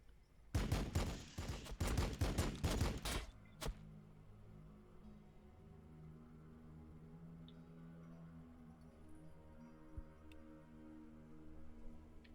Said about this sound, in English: Predator crew ready. Firing.